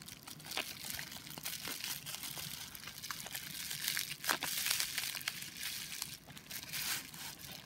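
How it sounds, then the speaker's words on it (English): Blue bubble wrap packaging around a new Nintendo 3DS stylus is unwrapped close up, giving a steady run of crinkling and crunching rustles with sharper crackles and pops scattered throughout, with no talking. "So it is wrapped in blue bubble wrap packaging."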